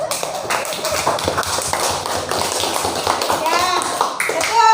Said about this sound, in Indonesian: tepuk tangan untuk yang jawab ya